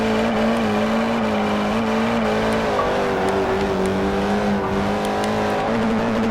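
A front-wheel-drive Fiat drifting in Forza Motorsport 4, its engine droning at a steady, slightly wavering pitch with tire squeal layered over it. The sound is loud and continuous throughout, and no one talks.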